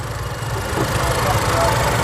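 A Nissan X-Trail engine idles with a steady low rumble and faint mechanical vibration, heard close up in the engine bay.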